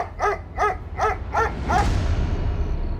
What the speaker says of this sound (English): I heard Jupiter bark in the middle of the night